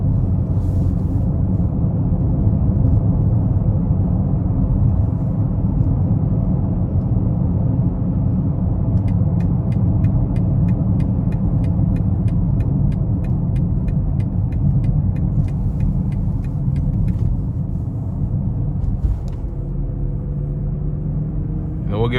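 A 2021 BMW X5 xDrive40i with a 3-liter turbocharged inline six drives in sport mode onto an interstate, giving a steady, low, close cabin rumble with a soft ticking partway through.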